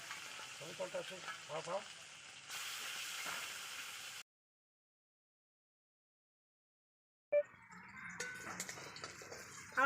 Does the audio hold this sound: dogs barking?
no